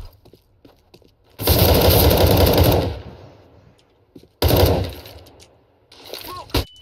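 Two long, loud bursts of automatic AK rifle fire in CS:GO, each lasting over a second, followed by a third shorter burst, with quiet gaps between and faint sounds in the background.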